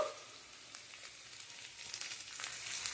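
Pointed gourd (potol) frying dry in a pan with a little salt, a soft, steady sizzle and crackle that holds throughout and swells slightly toward the end, with no voices.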